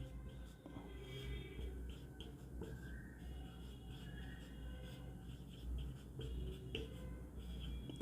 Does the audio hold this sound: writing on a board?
yes